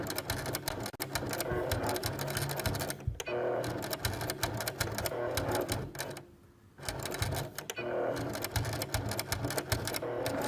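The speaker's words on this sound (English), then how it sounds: "And just sew across, and we're just gonna back stitch, and we're gonna do this like 4 or 5 times" A sewing machine back stitches back and forth across a pencil case, a loud, close, continuous mechanical chatter with a brief slowdown and pause before it runs again.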